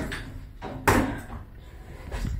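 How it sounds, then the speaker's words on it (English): Lift doors on an old squeaky shop lift closing, a single broadband sliding thud with a brief rumble, followed by a quieter knock near the end, close by. "Doors closing."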